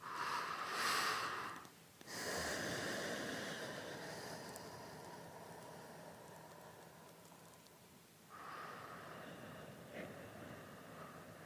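Slow, deep breathing in a yoga session, soft airy inhales and exhales that are close and quiet, separated by brief pauses.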